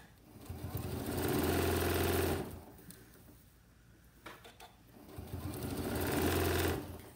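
Sewing machine stitching fabric in two steady whirring bursts of about two seconds each, separated by a quieter pause with faint handling sounds, close and fairly loud.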